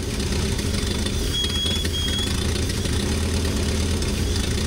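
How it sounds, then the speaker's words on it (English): An old farm truck's V8, restarted after two decades of sitting and a carburetor diaphragm repair, idles with a steady, even low rumble close by. No talk is heard over it. "When the key turned again, the V8 fired up."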